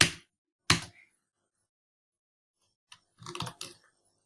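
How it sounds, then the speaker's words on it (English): A computer keyboard is pressed a few times while deleting a page in a Word document, giving two sharp isolated taps, a pause of silence, then a quick cluster of several clicks close by. "Just click backspace from your keyboard one or more than one time."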